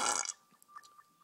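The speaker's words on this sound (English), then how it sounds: "That was a loud burp." A single loud, raspy burp erupts at the start and cuts off quickly, followed by faint, quiet background sounds.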